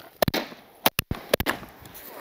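Shotgun blasts fired at widgeon ducks over decoys while hunting a flooded corn field, with several sharp, loud reports in quick pairs, spaced apart, among faint background noise.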